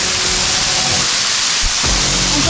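Steady broadband roar of a forest waterfall at Colditz Cove State Natural Area, loud and continuous, with a brief low thump near the end.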